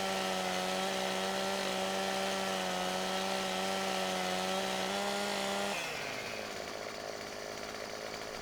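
Chainsaw in Farming Simulator 15 felling a tree, a loud steady buzzing drone that drops in pitch and settles into a lower rougher whine near the end, with no talking.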